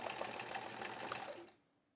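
Sewing machine stitching a zigzag around a quilt edge, a steady close whir of rapid stitches that runs for about a second and a half before stopping into quiet.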